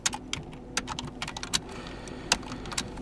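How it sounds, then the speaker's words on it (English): Typing on a computer keyboard to enter a search in a web browser, a quick run of sharp, close key clicks at an uneven rhythm with no voices. "from the browser you have to type in Geany"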